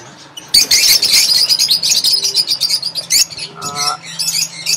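Parrots at a parrot farm call up close in loud, rapid bursts of shrill chirps and harsh squawks, almost continuous after a short quiet opening, with one lower, tonal call partway through.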